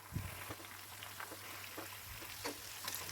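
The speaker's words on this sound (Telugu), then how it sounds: "ఇలానే మిగతా అన్ని పీసెస్ కూడా ఫ్రై చేసేసుకోవాలి" Pieces of chicken 65 frying in hot oil give a soft, steady crackle with scattered pops, quiet throughout and heard alone with a faint hum beneath.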